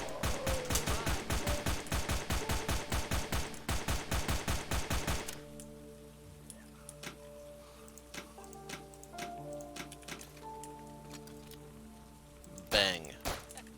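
Rapid bursts of automatic gunfire rattle off in a fast, regular rhythm while zombies are shot in the survival game Outbreak: Epidemic, followed by quieter clicks, footsteps and ambient game sounds, with one more sharp hit near the end.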